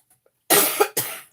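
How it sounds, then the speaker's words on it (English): Two harsh, close coughs in quick succession, loud and dry, after a brief quiet moment. "The coughing is still existing again."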